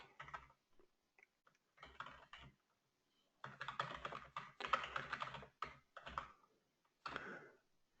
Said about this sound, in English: I'll type that into the chat in case you want to go and visit that.